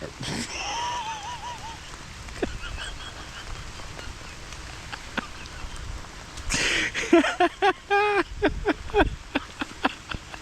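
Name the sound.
rain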